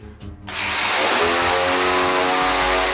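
A power tool cuts circles in wood, starting after a brief pause, then running loud and continuous with a steady high whine and grinding rasp close by.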